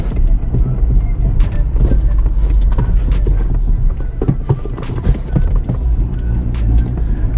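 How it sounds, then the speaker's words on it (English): A manual-transmission car creeps forward at engine idle with no throttle, a steady low engine rumble with faint rolling and road noise, close by and continuous, with no talking. "It's just the turning, overturning of the engine is enough to get the car rolling."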